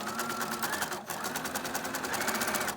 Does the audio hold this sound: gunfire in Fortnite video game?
no